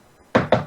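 Three heavy, close thuds against a door, a size 17 clown shoe kicking or pounding it, come after a near-silent pause, evenly spaced and loud with nothing else heard.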